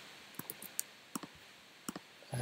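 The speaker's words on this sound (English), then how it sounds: "let's click into this one" Computer mouse clicking, a handful of quiet, sharp clicks in irregular pairs and singles against a near-silent background.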